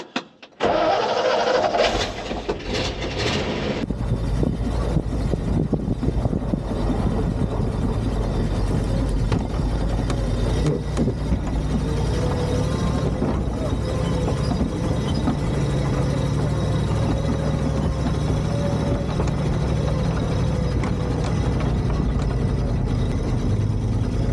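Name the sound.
1960 Ford F600 barn find truck engine running while reversing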